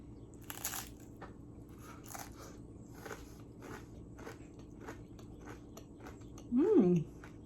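Crunchy rice cakes topped with a cottage cheese dip are bitten and chewed up close, with sharp crunches near the start and softer chewing after, and a brief vocal sound near the end.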